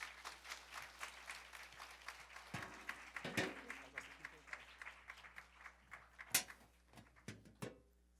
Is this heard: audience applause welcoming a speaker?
yes